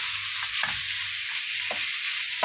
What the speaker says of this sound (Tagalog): Haloin ulit.